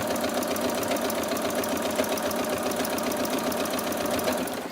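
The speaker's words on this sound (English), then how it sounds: "under the machine and stitch another row down the middle" Sewing machine running steadily, stitching a second row down the middle of a stretched little blue dress; a continuous, close, even mechanical whir with rapid rhythmic needle ticking for several seconds, no talking.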